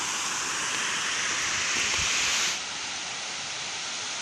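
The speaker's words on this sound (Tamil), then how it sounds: "இப்போ நீங்கள் பார்க்குற இந்த அழகிய காட்சி தாங்க மாசிலா அருவி." Masila waterfall in the Kolli hills rushes in a steady, loud roar of falling water heard up close. The sound stays broad and unbroken, then dips slightly in level near the end.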